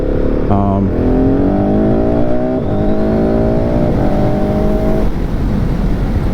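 A 2023 GasGas SM700 motorcycle engine revs up close and loud, its pitch climbing in a few rising pulls before dropping off.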